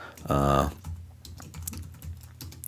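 Typing a level name on a computer keyboard, a quick run of light key clicks close by, irregular and soft, following a short burst of speech at the start.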